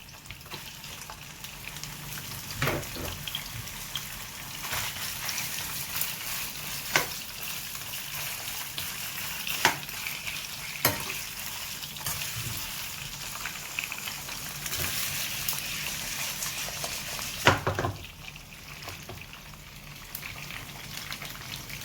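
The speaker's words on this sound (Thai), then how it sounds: "ตีนไก่นะครับมาฉาบน้ำมันเนาะเพื่อให้หนังมันตึงนะครับ" Chicken feet fry in old garlic oil with a steady, dense crackling sizzle, like light rain, punctuated by occasional sharper pops and clinks over the whole stretch.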